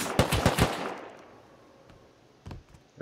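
Gunfire in the survival game Rust during a base raid: a quick, loud burst of three or four close shots that echoes away, then one fainter shot near the end.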